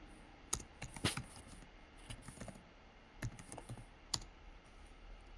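Quiet, irregular keystrokes on a computer keyboard as a website URL is typed, with a few sharper clicks standing out among soft taps and no talking.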